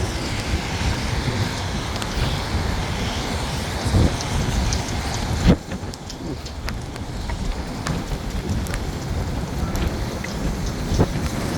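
Steady broadband wind noise roars across the whole clip, gusting and buffeting the microphone, with a sharp thump partway through and faint voices underneath.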